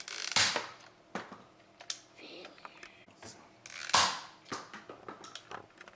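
A toy gun fires at the nose of an orange WowWee robot zombie toy, with a couple of sharp snapping shots and scattered plastic clicks and rattles nearby.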